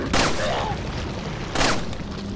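Two sharp gunshots from the survival horror game Resident Evil 4 Remake, fired about a second and a half apart, loud and close over dark game ambience.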